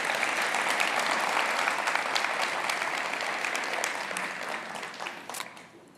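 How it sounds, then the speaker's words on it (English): An audience at a science forum on exercise for bone and joint health breaks into a round of applause, a dense, steady wash of many clapping hands that holds loud for several seconds and then begins to taper off. "round of applause."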